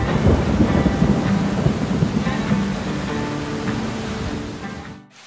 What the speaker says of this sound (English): there was a huge storm